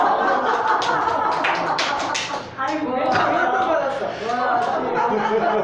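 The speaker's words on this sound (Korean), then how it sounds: "하나님께 박수" Church congregation clapping for God, a burst of crowd applause in the first half that fades into murmuring chatter and light laughter, with a voice talking over it.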